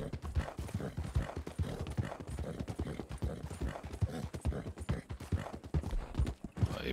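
Horse hooves clip-clop in Red Dead Redemption 2, a steady run of soft thuds heard fairly quietly, with some faint voice mixed in.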